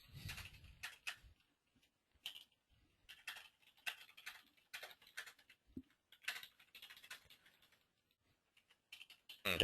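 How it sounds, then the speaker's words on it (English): Someone types on a computer keyboard in irregular bursts of quiet, close key clicks with short pauses between them, and no talking. "I'm just going to type in some basic details."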